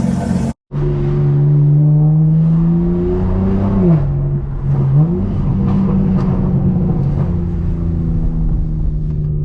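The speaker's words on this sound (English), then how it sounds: "I'm gonna give you some POV, me driving on Highway 9." A car drives along Highway 9 on a curvy Sunday run, its engine droning loud and steady up close, rising and dipping in pitch as it accelerates and shifts, with a brief cut near the start.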